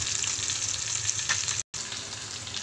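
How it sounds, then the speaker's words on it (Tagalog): Fish fries in a pan with a constant bright sizzle and crackle, close and steady, broken by a brief cut of silence before the hiss resumes. "Piniritong isda,"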